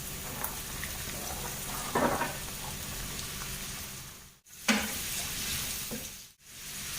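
Carrots tossed into a pan of curry-seasoned fried rice and stir-fried: steady sizzling hiss with a couple of scraping stirs, close and moderately loud, with no voices.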